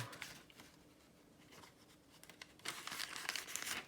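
Old, worn vintage paper is handled and rustled close by: soft, steady crinkling and rubbing that grows louder and busier toward the end, with no talking.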